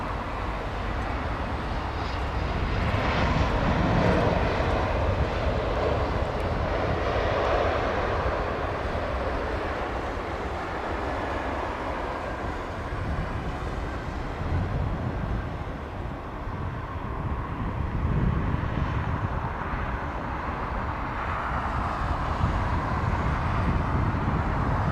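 A Boeing 787 Dreamliner airliner at London Heathrow Airport gives a steady, broad engine roar that holds loud and continuous throughout, with no clear rise or fall.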